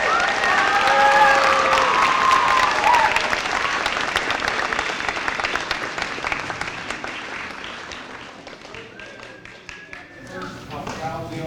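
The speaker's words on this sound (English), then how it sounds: "about one more big round of applause?" An audience applauds at an elementary school music program honoring veterans, a dense, sustained clapping from a large crowd that slowly tapers, with voices and a bit of cheering mixed in.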